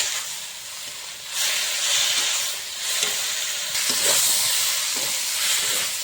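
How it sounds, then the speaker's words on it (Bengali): Green and dried chilli paste with tomato sizzling and hissing loudly in a pan, a steady frying sound that swells and eases with stirring, with no talking. "ভালো করে এখন কষিয়ে নেবো।"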